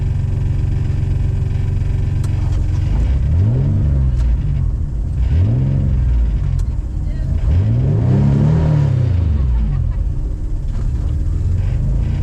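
A Mazda 929 burnout car jammed in second gear revs hard at close range, its engine surging up and down in repeated swells over a constant roaring drone.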